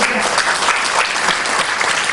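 A church congregation bursts into dense, loud applause during a sermon, continuous many-handed clapping filling the whole moment with no voices on top.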